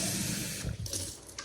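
Vinegar poured into a plastic spray bottle for dish washing; a steady, close stream of liquid splashing and filling, shifting in tone partway through, with no one talking.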